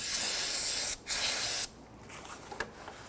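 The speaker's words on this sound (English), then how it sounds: "I'm going to clean up the surface around here with some spray solvent" Two bursts of hissing aerosol solvent cleaner sprayed around a Nissan Frontier engine during an oil change, a long one then a shorter one after a brief pause, followed by quiet with a faint tap.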